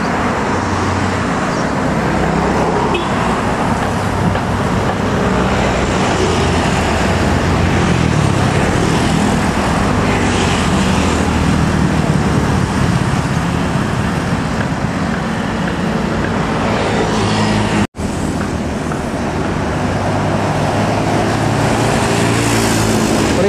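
A Primajasa economy air-conditioned bus on the Tasikmalaya–Lebak Bulus southern route passes on the road in a loud, continuous roar of engine and tyres, with heavy traffic noise and no talk.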